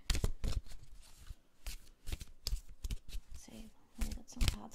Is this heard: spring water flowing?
no